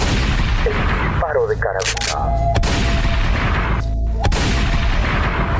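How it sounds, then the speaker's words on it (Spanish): A few sharp carbine gunshots crack out amid a dense, noisy soundtrack, with a voice heard briefly near the start. "El disparo de carabina."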